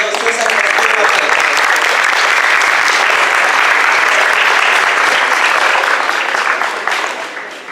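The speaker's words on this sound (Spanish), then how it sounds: "Una vez más, aplausos por favor para el ingeniero César Castillo." A conference audience at Universidad César Vallejo applauds a speaker, loud dense clapping sustained for several seconds before tapering off at the end.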